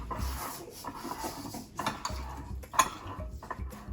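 Fresh ginger and other ingredients stirred in a pan, with utensils clinking and scraping against the metal in a quick, uneven rhythm, close and moderately quiet, plus one sharper clank near the end.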